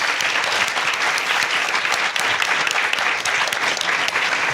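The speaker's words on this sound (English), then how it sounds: "I just would like to ask first for another round of applause for all of our amazing panelists." A conference audience applauds its panelists, dense sustained clapping from a full room that carries on evenly throughout without talk over it.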